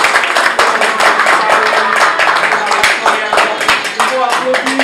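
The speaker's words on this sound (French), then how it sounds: "on va applaudir s'il vous plaît parce que c'est important" Loud, close audience clapping at a press conference, sharp individual hand claps in a busy rhythm running throughout, with voices talking over and among them.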